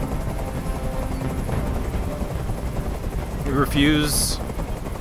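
A helicopter-like whir and gunfire clatter from Detroit: Become Human game audio run throughout, with a voice briefly speaking over it and a louder burst near the end.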